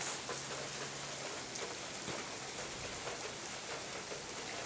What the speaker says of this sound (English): It's actually raining right now, huh?